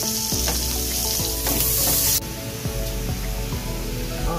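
Chopped onion frying with garlic in hot oil in a pan, a steady loud sizzle with soft scraping and clunks of a spatula, the hiss briefly flaring brighter then settling.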